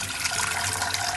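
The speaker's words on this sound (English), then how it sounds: "So guys, here I'm putting some water for the eggs." Tap water pours steadily into a pot for boiling eggs, a continuous close splashing rush with no voices over it.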